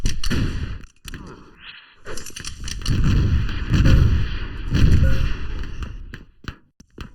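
Grenade blasts in the arena shooter Open Arena: a series of loud, booming thumps, three or four heavy bursts in a row with sharper weapon cracks between them, close and without speech.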